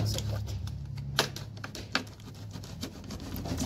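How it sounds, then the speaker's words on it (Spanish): Plastic milk jug being cut with a cutter, a run of close scraping, rubbing strokes with a few sharp clicks over a low hum, and a voice speaking alongside. "Vamos a hacer un pequeño corte."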